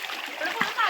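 Water splashes and churns in a cold stream as people play in it, a continuous rushing wash with a few sharper splashes, close and fairly loud.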